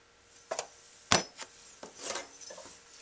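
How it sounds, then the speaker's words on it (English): A tenor saxophone mouthpiece is hand-filed, giving a few short, scattered rasping strokes at close range, separated by quiet pauses, with no talking. "I'm going to have to do some hand filing to get it there also"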